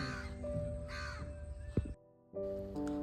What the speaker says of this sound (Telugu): కాకులు ఒకటే అరుపులు